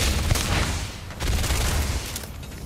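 Rapid automatic fire from a modded gun in Starfield, loud close bursts in two rough volleys with a short dip between them.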